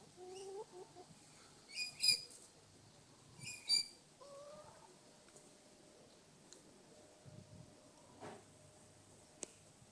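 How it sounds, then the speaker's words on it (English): Backyard chickens in a pen in a residential garden, clucking and calling in a few separate bursts at moderate distance, with quiet outdoor ambience and scattered small sounds between calls. "There's a couple of the chooks."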